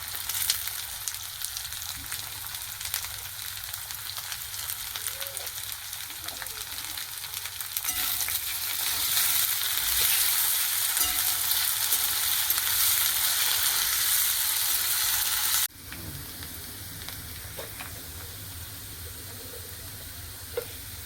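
Potatoes fry in a pan for a Bengali greens dish, giving a steady, close sizzle that swells louder midway with stirring, then drops to a softer hiss near the end.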